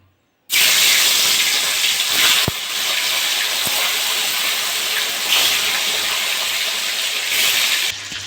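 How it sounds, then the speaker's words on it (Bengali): Pona fish frying in hot mustard oil in a kadai over a gas flame: a loud, steady, hissing sizzle bursts in after a brief silence and holds strong throughout, with no talking. "তেলটা আমার গরম হয়ে গেছে। এবার মাছটা ভেজে নেব।"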